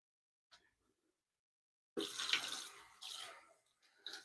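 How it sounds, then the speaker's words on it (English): Water runs from a tap in a laser workshop to rinse off a freshly engraved item, a steady splashing stream starting after a brief quiet tap and continuing in uneven surges. "I want to get this rinsed off a little bit."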